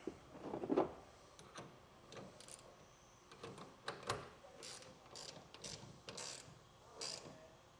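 A clamp tightened for a BAKFlip MX4 hard tonneau cover rail on a 2018 Ram 2500 gives faint ratcheting clicks and small mechanical rattles in short bursts, quiet and close, with no speech.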